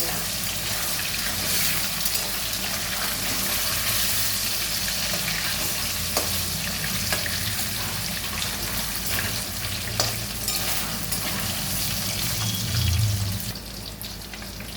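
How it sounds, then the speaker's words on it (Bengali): Pieces of catla fish fry in oil with a sustained, dense sizzle and spatter, steady and close for the whole stretch. There are occasional clinks and a low thump near the end, and no one speaks. "মাছটা ভাজা হয়ে গেছে, জাস্ট এরকম হালকা করে ভেজে নিতে হবে"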